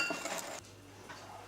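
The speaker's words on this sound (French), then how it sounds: "Puis mélanger jusqu'à liaison." Beaten eggs and milk being mixed into dry ingredients in a bowl for a quick brioche, with a utensil scraping and clinking against the bowl in a short near burst before it quiets.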